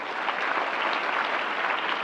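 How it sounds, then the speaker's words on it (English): Audience applause fills a formal gathering honoring students and their teacher, a steady, dense clapping held at even loudness throughout, with no voices over it. "Again, a brief round of applause."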